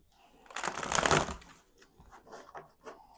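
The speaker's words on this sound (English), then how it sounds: "One more shuffle." Playing cards are shuffled in one close, crisp riffle burst at a tarot-style reading table, followed by softer card handling and shuffling.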